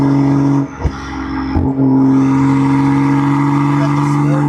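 A BMW M340i with its B58 engine pulls hard from the driver's seat, a loud steady droning exhaust tone holding strong after a brief dip and gear-change blip, recorded close at the rear bumper.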